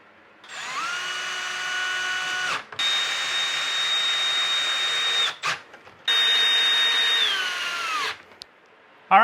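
Power drill driving a bolt with a washer into a clamp bracket for a Kemimoto UTV soundbar, three close whining runs with rising and falling pitch, separated by short pauses, with no talk.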